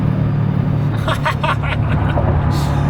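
Car engine pulling hard at three-quarter throttle on tune 3 of 5, a steady loud rumble with a rising note and faint chatter above it.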